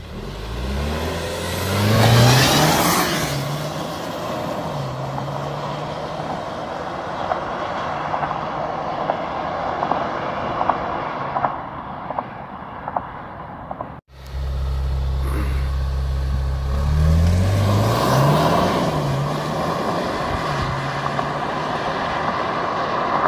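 A turbocharged 2018 Alfa Romeo Stelvio Sport accelerates hard through its gears, the engine note climbing and dropping with each shift, then repeating after a brief cut, loud and sustained.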